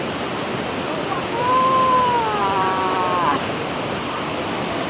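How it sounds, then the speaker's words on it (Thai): A tall waterfall at Krok I Dok in Saraburi, Thailand, makes a constant broad roar of falling water, while a voice speaks briefly over it partway through. "ตอนนี้เรามาถึงน้ำตกโกลกิโดแล้วค่ะ"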